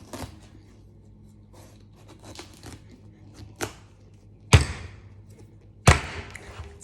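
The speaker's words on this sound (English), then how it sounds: "I'm actually gonna cut this squash" A knife splits a squash in half for a plant-based meal prep, giving two sharp, loud thuds near the end after quieter low rumbling and small taps.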